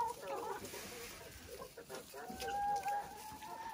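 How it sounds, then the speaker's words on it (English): Chickens cluck softly while pecking at snow in a cold winter setting, faint, short clucks and quiet vocal notes scattered over a low background hiss. "And only a Canadian chicken likes to eat snow."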